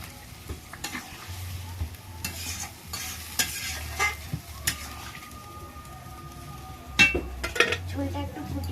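A spoon scrapes and clinks around a pot of village-style meat curry, with a continuous sizzle underneath and repeated metallic knocks and stirring strokes, louder near the end; no speech.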